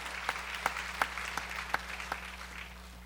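A congregation claps during a church sermon, with a handful of scattered, fairly faint claps and soft clapping between them over a low hum.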